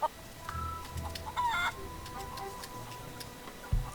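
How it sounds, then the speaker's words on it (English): A feral chicken clucks in the Curse of Monkey Island video game, several short clucks and squawks scattered over a busy ambient game soundscape, with a steady ticking and low rumbles underneath. "Feral chicken."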